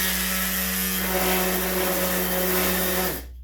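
An electric sander runs with a steady high whir, holds a constant pitch, then cuts off abruptly near the end.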